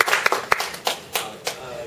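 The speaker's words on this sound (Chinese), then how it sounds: "那我们先用掌声来欢迎 Fred" Audience applause welcoming a guest speaker named Fred at a free software course session: a short burst of scattered hand claps, several distinct sharp claps fading over about two seconds, moderately loud in a room.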